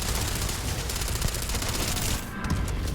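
Rapid gunfire during combat in Starfield, a dense, continuous burst of close shots rattling without pause for about three seconds, briefly easing near the end before resuming.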